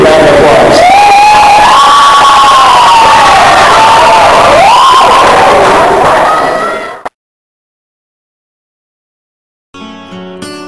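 Audience cheering and crowd noise greet a boy band skit at a teen event, loud and sustained with shouts for about seven seconds, then a sudden cut to silence before faint music enters.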